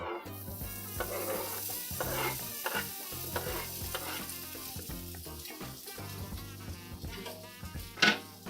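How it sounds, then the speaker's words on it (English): Canned meat sautés in a hot pan with a steady close sizzle, broken up by repeated stirring and scraping strokes and a brief clink of a utensil near the end. "Let's try sauteing some meat."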